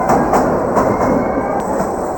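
The Kalka–Shimla toy train rolls along a mountain narrow-gauge line near tunnels, with a loud, steady rumble and a regular clickety-clack of wheels heard from on board.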